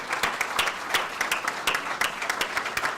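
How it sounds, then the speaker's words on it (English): Applause at a university athletics press conference, a moderate round of clapping from a modest crowd with individual claps distinct and fairly close, steady for the whole stretch. "I'm going to tell him that we gave him a rousing round of applause"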